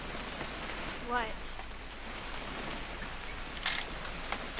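Camera shutter click in the video game What Remains of Edith Finch, one sharp snap near the end, over a steady rain-like hiss with a faint earlier chirp.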